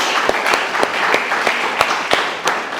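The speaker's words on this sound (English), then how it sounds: "I'll ask everyone to give them a big round of applause for their" A small gathering welcomes boxers with a round of applause, sparse, distinct hand claps landing at an irregular pace, close and moderately loud.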